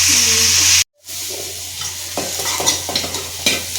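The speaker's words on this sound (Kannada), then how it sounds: "ಟೂ ಮಿನಿಟ್ಸ್ ಫ್ರೈ ಮಾಡ್ಕೋಬೇಕು ಫಸ್ಟು" Food frying and being stirred in a pan for a home-cooked non-veg dish, a steady sizzle broken by a brief dropout, then scraping and stirring clicks over the hiss.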